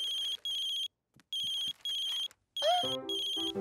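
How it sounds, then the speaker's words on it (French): A mobile phone rings in a family cartoon: several bursts of bright electronic ring tone separated by short gaps, then a louder melodic jingle, with no talk. "Papa a oublié son téléphone. Et regarde, ça sonne, c'est papy."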